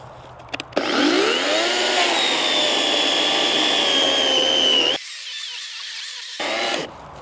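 A VITALS AKZ 3640S cordless chainsaw powered by a Grosser battery whirs up to a steady, loud high-pitched whine, holds for several seconds, then drops to a lower drone before briefly rising again.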